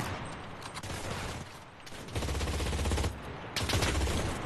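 An MG34 machine gun fires in the WWII shooter Enlisted, two long rapid bursts of close, loud automatic fire separated by short pauses, with no talk over them.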